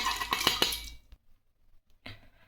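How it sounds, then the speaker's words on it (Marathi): Toor dal rattles into a pot of hot water with a dense clattering patter for about a second. A short silence follows, then another brief rustling splash. "पाणी गरम झालं आता यामध्ये आपण ही डाळ टाकून घेऊ"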